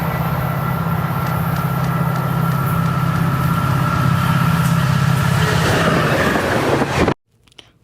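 A loud Amtrak F40PH diesel locomotive engine drones steadily with a deep hum and high whine, growing rougher before cutting off abruptly near the end.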